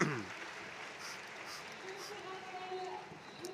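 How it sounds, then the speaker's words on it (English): An audience at an international law forum applauds, a soft, diffuse patter of many hands heard at a distance and sustained briefly, with a faint tone sounding near the end. "Give a big applause for the youth that is present here today."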